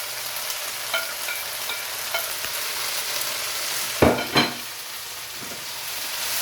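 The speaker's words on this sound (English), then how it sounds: "Now I'm going to add the beef back to the onion." Beef and onions fry in a pan for Mongolian beef, a continuous close sizzle punctuated by a few clacks and scrapes of stirring.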